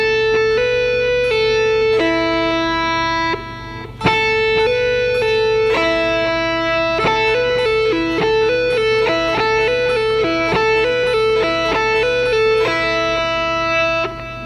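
A rock guitar plays an open-string lick of quick hammer-ons and pull-offs over ringing open strings. The notes form rapid repeating three- and four-note patterns, with a brief pause before the run resumes. The tone is clear and close, with no talking.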